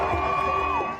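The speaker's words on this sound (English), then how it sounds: "the massive crowd that packed Hostage Square all night erupts in cheers" A massive crowd packed into Hostage Square erupts in a continuous roar of cheering and whoops, loud and dense for the whole moment, with a few voices rising above the mass.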